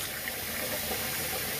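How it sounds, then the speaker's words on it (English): Tap water runs steadily at a bathroom sink during face washing before a shave, a continuous close hiss and splash with no talking. "I'm gonna go ahead and wash the face."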